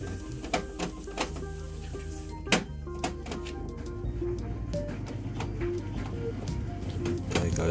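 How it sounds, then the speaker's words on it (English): Domestic tumble dryer and washing machine running together during a Vaillant boiler heat exchanger replacement, a steady low mechanical drone with rattling and clunking knocks throughout. "There goes the tumble dryer and the washing machine"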